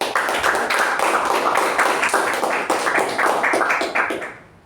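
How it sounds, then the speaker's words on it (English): Sustained applause from a meeting audience honoring Toastmaster Ajay, dense clapping holding steady for several seconds before tapering off at the end. "let's give a big round of applause for Toastmaster Ajay"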